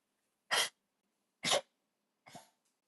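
An old dog, about fifteen years of age, coughs three times in short, harsh bursts about a second apart, the last one weaker, in an otherwise quiet indoor room.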